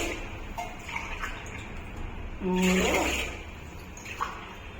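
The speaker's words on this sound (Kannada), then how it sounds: "4 ಲೋಟ ನೀರು ಹಾಕ್ತಿದ್ದೀನಿ." Water poured from a cup into a pot of rice, a short gurgling splash in the middle, with quiet kitchen sounds and a voice speaking around it.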